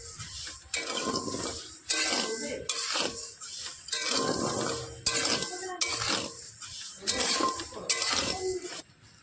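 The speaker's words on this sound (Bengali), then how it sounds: "এবার কিছু সময় আমি নাড়াচাড়া করে নেব" A spoon stirs sago in a metal pan, giving repeated scraping clinks in bursts about once a second with brief pauses between strokes, fairly close, while a voice talks.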